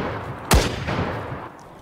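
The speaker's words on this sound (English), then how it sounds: "He shot me." A single loud, sharp gunshot cracks out in the survival game DayZ, followed by a brief rumbling echo that fades over the next second.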